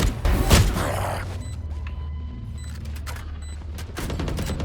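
Shotgun fire in the tactical shooter Valorant, on the Ascent map, comes as one heavy blast near the start. Quieter game sounds follow in a continuous mix, with no speech.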